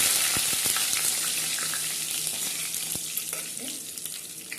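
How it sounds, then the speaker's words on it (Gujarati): Dried red chili, bay leaf and curry leaves sizzle in hot oil, a steady crackling fry for a Kathiyawadi dhokli nu shaak, with a few sharp pops and light stirring, close and alone without talk. "આપણે આ સૂખા 1 લાલ મરચું છે અને તેજપત્તું છે નાખીશું. આપણે લીમડો નાખીશું."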